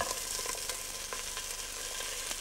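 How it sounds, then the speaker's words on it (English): Kangaroo meat browns in a little olive oil, a steady dense sizzle throughout with small crackles and pops, close and continuous, no voices. "That's colouring nicely now in just a little bit of olive oil I've used."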